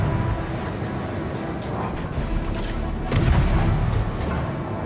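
Naval artillery fire in the World of Warships video game sounds as heavy booms and rumbling salvos over a continuous low engine-like drone, with the loudest blasts landing in the second half.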